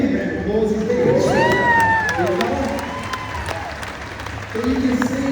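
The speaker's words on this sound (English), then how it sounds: "Give him a round of applause, he's there." A crowd at a crocodile show at Australia Zoo applauds and cheers for several seconds, clapping mixed with excited children's shouts and a prominent, overlapping voice.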